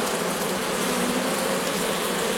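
A honeybee swarm being collected in a French village hums with a steady, dense buzz, close and continuous throughout, with no voices.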